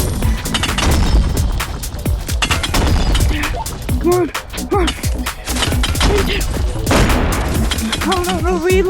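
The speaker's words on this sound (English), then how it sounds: "I'm shooting you every single time." Rapid gunfire crackles throughout a shooting video game arena battle, dense bursts of shots near and loud, with game sound effects chirping between volleys.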